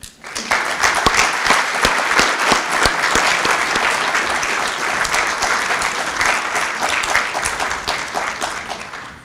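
A lecture audience breaks into sustained applause welcoming the speaker at an annual ethics and culture lecture, a dense, steady roomful of clapping that holds loud and even throughout.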